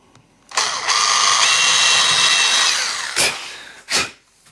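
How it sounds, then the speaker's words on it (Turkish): Power drill fitted with a 2 mm bit boring into wood, a steady whining drone lasting about two and a half seconds, followed by two brief bursts as the trigger is tapped again, close and fairly loud. "Elinizde metrik 2 gibi bir ölçüde matkap ucunuz varsa"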